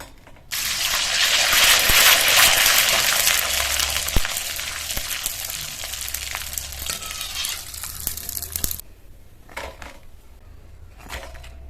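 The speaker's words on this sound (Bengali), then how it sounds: "সব পাঁপড়গুলো ভেজে নিয়েছি" Tomato papad wafers fry in hot oil with a loud, dense sizzle that starts abruptly, crackles steadily for several seconds, then thins to scattered faint pops and quiet clinks.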